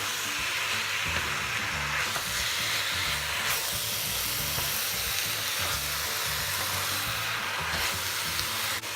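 Cubes of beef fry for rendang in a pan, a steady broadband sizzle with soft hiss and steam that runs unbroken and fairly loud, with faint low stirring bumps underneath and no voices.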